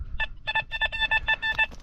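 A metal detector gives a sharp, pulsing tonal signal over a find lying right at the surface, a rapid series of bright beeps close and loud with no talk.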